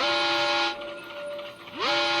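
A train in the Granny video game sounds two loud, steady whistle blasts, the second rising into pitch, with a rumbling hum between them and no talking.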